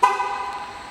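A 2008 GMC Yukon SLT gives a single short horn chirp as it is locked with the remote, loud and close, with a ringing tone that fades over about a second.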